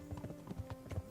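Horse hooves clip-clopping in Kingdom Come: Deliverance, a quick steady rhythm of soft close hoofbeats at a trot, with no talk over them.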